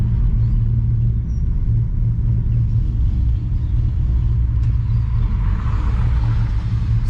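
A V6 car engine with an idle chop mod turned on, cruising with a steady low rumbling drone and a faint uneven chop running loud and continuous throughout.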